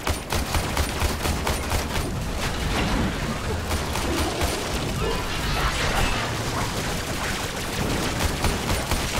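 Rapid machine gun fire from a floating drone in Warframe, a Defence mission on the Venera map on Venus, forms a dense, continuous burst of shots with booms and mechanical clatter, while someone talks over it.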